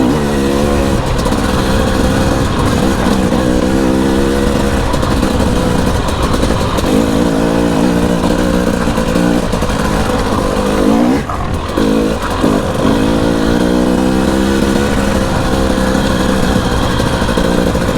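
A Husqvarna TE300i two-stroke dirt bike roars continuously over rocky ground, its engine revving and burbling up close with brief dips in throttle around the middle.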